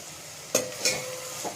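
Khichdi with potato and carrot being stirred in a pot, a few distinct scraping strokes of a spoon against the metal over a faint background, close and fairly quiet.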